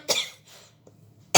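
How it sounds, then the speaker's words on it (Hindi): Two sharp, close coughs separated by a brief quiet pause, the second starting right at the end. "मुझे भी खांसी आ रही है"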